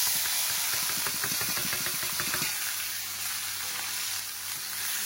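Spices hitting hot oil for a fish curry fry with a loud, steady sizzle and hiss that continues for the whole stretch, easing slightly toward the end, with no talking.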